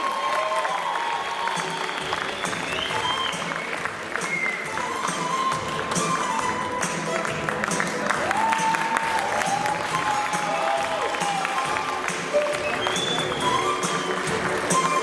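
Loud, sustained audience applause at a university graduation ceremony for foreign students as an honours diploma is presented, with dense clapping and faint crowd murmur throughout.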